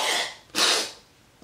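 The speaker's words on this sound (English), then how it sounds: "Sorry, I had to sneeze." A short, breathy intake followed by a sharp, explosive sneeze, close and moderately loud, trailing off into quiet.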